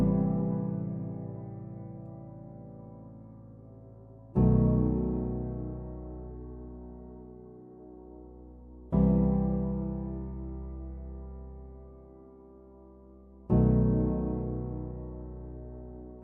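A simple piano chord progression played through a vintage-style reverb and a delay, four sustained chords struck at even intervals, each ringing out and decaying slowly into a soft wash.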